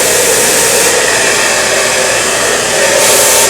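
Steady, loud whoosh of a hair dryer blow drying hair during a beach wave styling session, a constant close roar with a slight shift in tone partway through, and no talking.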